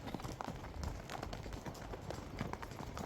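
Horse hooves clip-clop on the ground while riding in Saty Village, Kazakhstan, a quick irregular series of close, muffled thuds over soft outdoor background noise.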